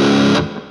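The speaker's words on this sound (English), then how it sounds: "the reverb on this sounds pretty good" A loud, distorted electric guitar chord through an Orange Crush 35RT amp's reverb rings out, then trails off into a brief reverberant wash.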